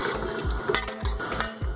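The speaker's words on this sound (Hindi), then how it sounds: "अब इसको अच्छे से मिक्स करते हैं" A spoon scrapes and knocks rhythmically in a pot while stirring a chili and salt spice mixture, several quick taps and scrapes close up over light background noise.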